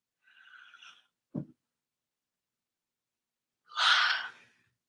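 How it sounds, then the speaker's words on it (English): A fitness instructor's yawn comes as a few soft breathy exhalations with a short catch of breath between them, faint and close in an otherwise quiet room. "Excuse my yawning."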